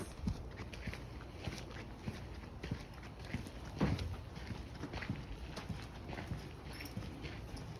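Horse hooves clip-clop in a steady walking rhythm as the animal is led by a rope, moderately near over a busy outdoor background, with one louder thud midway.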